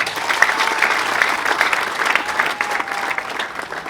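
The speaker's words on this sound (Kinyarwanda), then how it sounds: "umwongera amashyi." Crowd applause at a wedding celebration, rapid, dense clapping from many hands that continues steadily, with a faint voice now and then.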